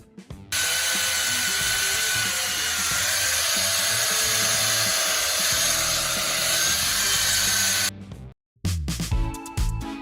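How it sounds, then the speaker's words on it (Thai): A concrete saw cutting through hard concrete makes a loud, continuous, high-pitched grinding whine for about seven seconds, stops abruptly, then restarts briefly with rougher bursts. "เลื่อยนี้จึงสามารถจัดการกับคอนกรีตที่แข็งที่สุดได้อย่างสบายๆ"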